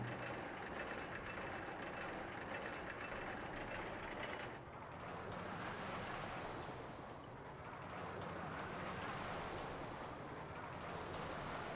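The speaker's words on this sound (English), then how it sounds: "Why are we constantly getting the water splashing sound?" Continuous rushing water splashes from a video game, a broad hissing wash that dips briefly midway and then swells back, steady and unbroken for the full stretch.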